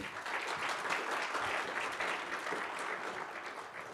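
Audience applause fills a business forum hall, a steady, dense wash of many hands clapping throughout, moderately loud with no talking over it.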